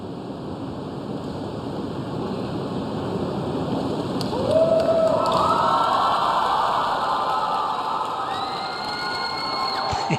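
Crowd noise and cheering rise at a men's synchronised 10m platform diving final, a broad steady roar swelling midway as divers surface, with whistle-like tones above it and no clear talk.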